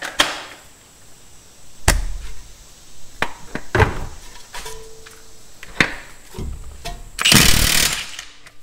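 Socket clanks and knocks on the crank bolt of a Honda 3.5L V6, driven through an upgraded impact socket, end in a short, loud, rattling burst from the impact wrench.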